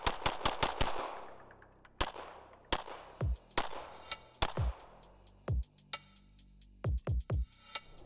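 Laugo Arms Alien pistol fired at 25 yards outdoors, a fast string of loud, sharp gunshots, some in quick doubles, each followed by a ringing echo tail.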